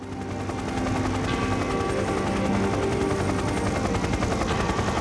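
Helicopter flying overhead on a night police surveillance mission, a steady, loud rotor thrum and engine whine that stays constant throughout with no voices.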